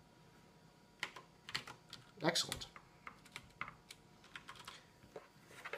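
Typing on a Das Keyboard 4 Ultimate mechanical keyboard, a run of close, crisp key clicks in irregular bursts with a brief spoken word partway through.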